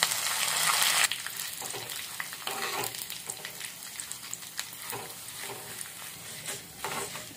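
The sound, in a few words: tempering of spices and curry leaves frying in a pan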